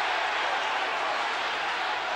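A football stadium crowd at West Ham versus FC Metz in the 1999 Intertoto Cup roars as a dense, steady wash of noise, loud and unbroken throughout.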